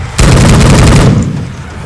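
Gunfire in the Left 4 Dead 2 video game blasts out loud and close, a dense rapid burst lasting about a second before tailing off.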